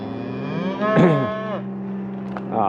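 A single cow bellows a long, loud, close moo with a rising then falling pitch while cattle are herded at a calm walking pace, with a softer call starting near the end.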